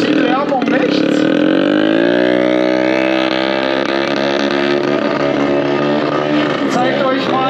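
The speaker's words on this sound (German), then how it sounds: "Donuts drehen auf dem Motorrad, das können nur wenige." At an outdoor Kawasaki show in Speyer, a stunt motorcycle holds a loud, sustained engine whine that climbs in pitch and then stays high while it spins donuts, with a voice over it.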